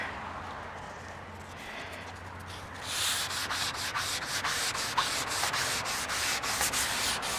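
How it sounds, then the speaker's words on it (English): Close, rhythmic sanding strokes scrape back and forth across a cabinet, starting after a few quiet seconds and staying steady and fairly loud to the end. "for right now, I'm just going to sand here"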